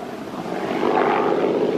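The RB-51 Red Baron racing plane roars past on a 3-kilometer speed record course, a loud steady engine drone that swells slightly as it passes, with no voices over it.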